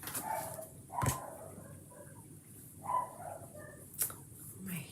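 A small dog barking from upstairs, a few faint muffled yaps spaced apart over quiet room tone.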